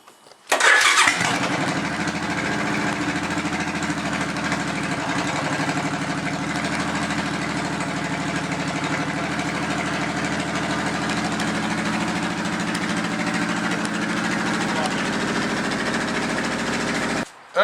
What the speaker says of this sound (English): Let's start it up. Nice and smooth, see?